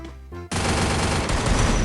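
Rapid automatic gunfire from an MP5 in the Free Fire mobile game bursts in after a brief lull and roars continuously, loud and dense, with no talking over it.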